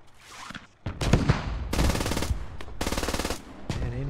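An MG3 machine gun fires in the Squad military shooter game, loud close bursts of rapid automatic fire separated by short pauses, with fainter distant shots between them.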